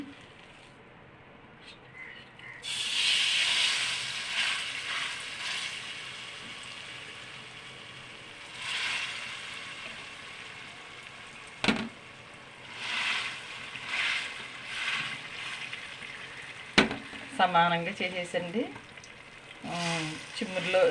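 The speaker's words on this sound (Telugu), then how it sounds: "ఇదిగోండి ఆయిల్ మరిగిపోయింది. ఇప్పుడు వేయాలండి." Palm fruit bread dough sizzling as it fries in hot oil, with a steady loud crackle and bursts of bubbling, and a person speaking briefly near the end.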